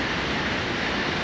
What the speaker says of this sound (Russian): Последний водопад